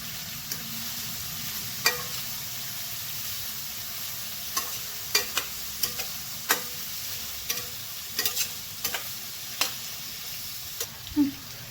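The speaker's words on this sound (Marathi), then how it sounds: "कांद्यानंतर आपण टाकणार आहे इथे मिरची मी याला एकदा मूव करून घेणार आहे" Onions and chillies fry in a pan as a spatula stirs them for a biryani. A soft, constant sizzle runs underneath while a dozen or so sharp, irregular scraping clicks from the stirring ring out close by.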